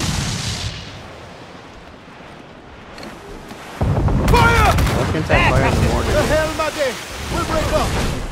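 Ship cannons fire in a naval battle in Assassin's Creed IV Black Flag, heavy booms rolling out amid sea noise while voices shout over the gunfire.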